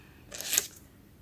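A single short hiss of Britney Spears Fantasy perfume sprayed from its bottle, a soft, breathy burst lasting under half a second against quiet room tone.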